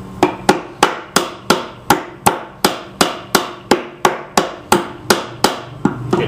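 Sixteen steady hammer blows drive nails into a wooden bird house, each a sharp, loud, close strike at an even rhythm of about two and a half per second with no talking.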